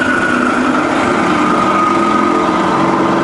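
A TFY milling machine's spindle runs in low range at steady speed, giving a loud, constant motor whine with a sustained high tone and even mechanical hum throughout.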